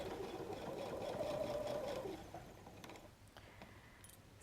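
Sewing machine basting across the bottom of a messenger bag pocket, a close, steady whir for about two seconds that winds down into soft mechanical clicks.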